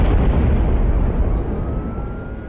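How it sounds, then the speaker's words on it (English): A deep, rumbling explosion roars loudly and slowly fades, a heavy blast with a long low tail. "there was an explosion with a flash of light brighter than day"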